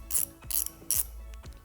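A wrench ratchets in three short bursts of clicks with pauses between them as the nut on the clutch lever pivot bolt of a 2021 Yamaha MT-07 is loosened, close by and with no talk.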